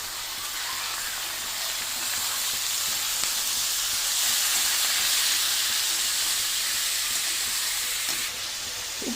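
Tomatoes dropped into a sautéed gravy base in a pan, giving a loud, steady hissing sizzle like steam that holds evenly the whole time, close and unbroken.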